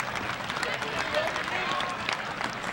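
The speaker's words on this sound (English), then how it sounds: "Ovation from the crowd encouraging him" A crowd at a 2012 Saint Paul Seniors at Saint Michael football game applauds an injured player as he is helped off the field, producing a steady wash of clapping and cheering throughout.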